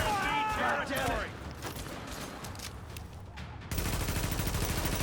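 Heavy gunfire in a video game, with a stretch of bursts and rattling shots that ends in a loud, dense volley, and voices talking over parts of it.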